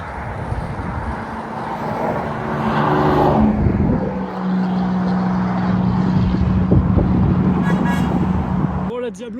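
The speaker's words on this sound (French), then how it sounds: "il y a le son lourd du Bizarrini là" A Bizzarrini sports car passes on a Normandy motorway, its heavy engine note rising to a loud, close drone and then a sustained low tone, with people talking over it and a brief horn-like sound near the end.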